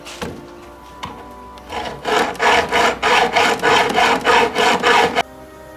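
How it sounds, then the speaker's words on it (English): A saw cuts the end off a wooden beehive board clamped to a work surface: after a few light taps, about eight steady, loud back-and-forth strokes rasp through the wood, then stop abruptly. "clamp the board firmly to a work surface and then cut off 5 millimeters at this end."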